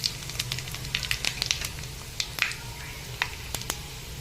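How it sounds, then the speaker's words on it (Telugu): Tempering seeds sizzle and pop in hot cooking oil for a vegetable curry of brinjal, tomato and drumsticks, giving a steady crackling hiss with frequent sharp spits, close and alone. "తాలింపు గింజలు వేసేసుకున్నాం"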